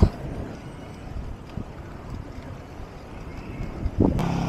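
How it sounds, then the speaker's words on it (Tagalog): Gusty wind buffets the microphone while cycling up a steep mountain road near Pililia, Rizal, a steady low roar with a louder burst near the end. "Lakas ng hangin!"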